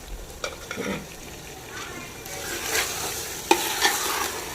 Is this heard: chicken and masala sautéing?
yes